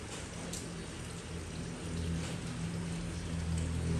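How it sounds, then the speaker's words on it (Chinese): Steady rain falls during a morning downpour in Kulim, a soft, even hiss with a low rumbling undertone that continues unbroken throughout. "昨晚下雨下到现在哦。"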